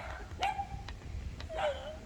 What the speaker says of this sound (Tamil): என்னை பார்த்து ஒரு நாய் கொலைச்சிச்சு.